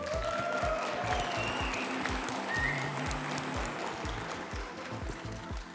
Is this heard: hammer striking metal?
no